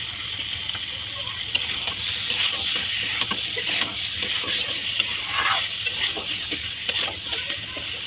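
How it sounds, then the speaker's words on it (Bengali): Potatoes frying in oil spiced with cumin powder are stirred in a pan, a constant loud sizzle with scraping and clatter throughout while someone talks over it. "ওর মধ্যে কেটে রাখা আলু দিয়ে দেবো।"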